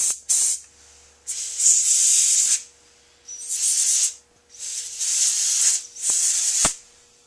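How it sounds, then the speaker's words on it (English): Compressed air blasting through a lawn mower carburetor, loud close hissing bursts in five separate spurts of one to two seconds each, with short quiet gaps between them. "using your can of air or your compressor, either one, blowing it out"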